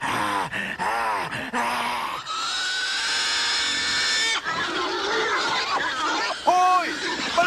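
Pigs grunting and squealing in a dramatized Gospel of Luke scene, loud and close, with strained cries mixed in.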